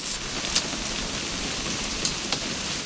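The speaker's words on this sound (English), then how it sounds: "It's gonna rain the whole weekend" Continuous steady rain hissing down in the video game What Remains of Edith Finch, with a few sharper drops or ticks standing out now and then.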